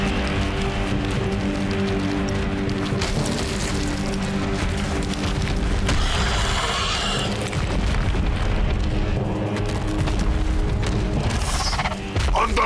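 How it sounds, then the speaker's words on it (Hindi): A blinding explosion in an animated movie bursts with a deep, sustained boom and roaring rumble that stays loud and dense throughout, with crackling swells and a softer tail near the end. "अंधा करने वाला विस्फोट।"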